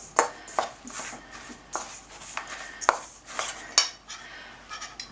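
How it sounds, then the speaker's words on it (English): Muesli ingredients are stirred and tossed together in a bowl, producing a string of light clinks, taps and dry rustles at irregular intervals, fairly quiet and close. "Mix it around so you get a good mix of everything."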